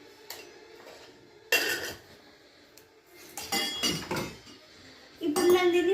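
A spoon of sugar goes into a glass while cold coffee is being made, giving several separate metallic clinks and scrapes of the spoon against the glass, close and fairly loud, with quiet gaps between them.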